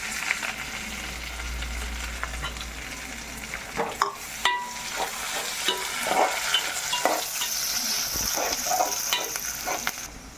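Onions, curry leaves and green chili sauté in a pan, giving a steady close sizzle broken by sharp scraping and clacking strokes as the mixture is stirred.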